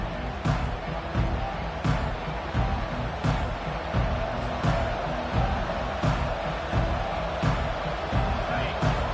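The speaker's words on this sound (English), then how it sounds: "This crowd, full throat, splitting the eardrums" Football stadium crowd roaring at a Wolverines game during a defensive stop and punt, a dense, sustained roar with rhythmic bursts of shouting and clapping swelling throughout.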